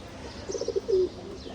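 Pigeons kept under a mosquito net give a short, soft run of cooing notes, a quick stutter of coos then one longer drawn coo, faint against a quiet background.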